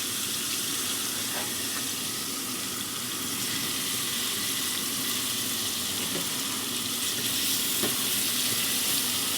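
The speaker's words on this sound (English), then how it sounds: "Into this frying pan, we'll put our potatoes." Steady, dense sizzling of potatoes frying in a pan, a continuous hiss close up with a few faint clicks, no talking.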